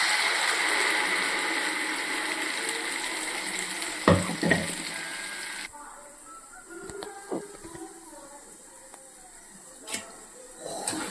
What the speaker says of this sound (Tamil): சிம்மில் வச்சுட்டு அப்படியே லைட்டாக கலரி கொடுத்துன்னே இருங்க.